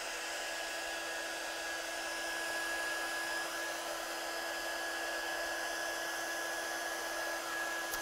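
A heat tool blows steadily over a freshly stamped card, a continuous airy roar with a faint high whine held at even loudness throughout, with no talking.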